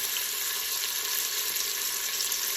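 Beef stew hisses and sizzles steadily in a pot after being added, a dense continuous frying sound close by with no talking.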